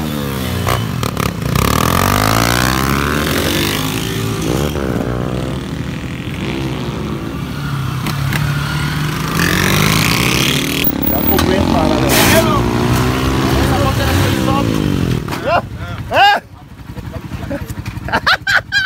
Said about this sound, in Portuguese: Ave Maria, um, um enxame de moto.